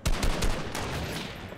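Sniper gunfire in the video game Fortnite: a loud, close burst of sharp shots at the start that decays into a long, noisy echo tail, with no talking.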